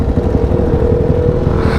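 A sport motorcycle, a Yamaha WR155 or a Honda CBR, drones steadily at speed during a night ride, with a constant engine hum and rumble and no voices.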